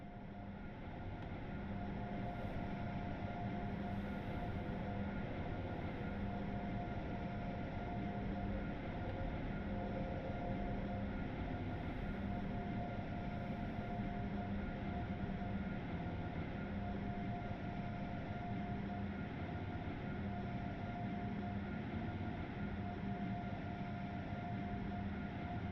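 Acela Express train in Train Sim World 4 slowing toward a station, a steady low rumble and drone with a faint repeating tonal hum, quiet and even throughout with no voices.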